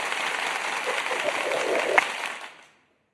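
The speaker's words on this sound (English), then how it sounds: "Let's give you the round of applause before anything." A crowd applauds steadily in a broad patter of clapping that swells slightly and then quickly fades to silence.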